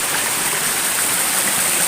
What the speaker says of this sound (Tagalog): Ang lakas ng agos ng tubig, oh.